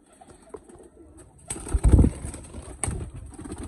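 Wehshi pigeons coo softly in a breeder loft, low murmuring calls that swell louder midway amid rustling and a steady faint high hum.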